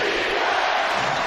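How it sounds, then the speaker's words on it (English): Basketball arena crowd during an NBA game between the LA Clippers and Indiana late in the fourth quarter, a brief loud wash of cheering and roaring noise with no clear speech. "Crowd loving it."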